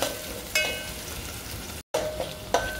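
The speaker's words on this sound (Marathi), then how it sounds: "लसूण आणि अद्रक. ते पण चांगलं थोडं परतून घ्यायचं आहे." Garlic and ginger sauté in a pan for restaurant-style dal tadka: a steady close sizzle with a few sharp scrapes of a stirring spoon and a brief dropout, with no voices.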